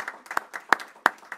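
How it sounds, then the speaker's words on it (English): Scattered, uneven hand claps from an audience at a school board meeting: a handful of sharp, separate claps and a few softer ones, sparse rather than a full ovation. "let's give that group a big round of applause"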